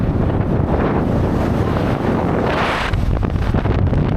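Strong wind blasts across an outdoor microphone on a rough dirt track to a remote forest village in northern Thailand, a loud, continuous roar that rises and falls slightly, with no voices.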